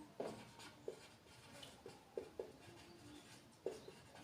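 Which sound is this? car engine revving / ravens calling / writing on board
writing on board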